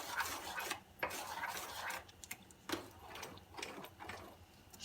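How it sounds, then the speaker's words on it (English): A spoon stirs sour cream into dal makhani in a pot, making soft, irregular scraping and clinking strokes against the vessel, close but fairly quiet, with no talking. "Stir it until the sour cream mixes well with the sauce, with the lentil."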